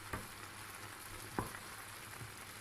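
Almonds roasting in a dry pan, stirred with faint sizzling and crackling, a soft steady texture broken by a few brief scraping stir sounds, quiet and close.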